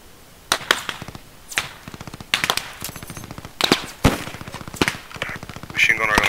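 Machine gun fire in the World War II shooter Post Scriptum comes in rapid bursts, loud and close, with further shots and distant fire between them as voices talk over the battle.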